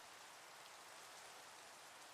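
Steady rain falls in a video game, a dense, even hiss of drops with no other sounds over it.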